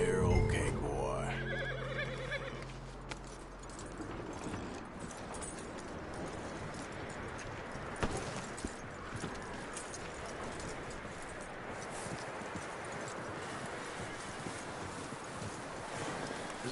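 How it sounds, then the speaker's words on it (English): A horse in the Red Dead Redemption 2 video game clip-clops along with soft hoofbeats under a wash of outdoor ambience, fairly quiet overall, with a brief whinny-like sound near the start. "That looks like a decent horse."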